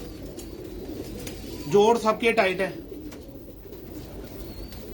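Champion racing pigeons in a loft coo in a short warbling burst of throaty calls, close and fairly loud, while someone talks steadily before and after.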